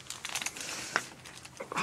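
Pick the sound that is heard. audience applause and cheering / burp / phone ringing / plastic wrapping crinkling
plastic wrapping crinkling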